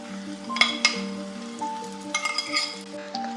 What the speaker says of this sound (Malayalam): നമുക്ക് അരിഞ്ഞ് വെച്ചിട്ടുള്ള കേബേജ് ഇതിലേക്ക് ഇട്ട് കൊടുക്കാം